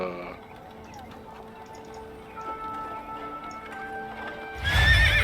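A horse in the Drakensang Online video game clip-clops along with its rider, hooves ticking steadily under a faint musical backdrop, and a loud, bright neigh bursts out at the very end.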